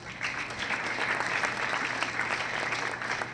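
Audience at a lecture-style conference applauding in a steady, dense wash of many hands, continuous and moderately loud from start to finish with no talk over it.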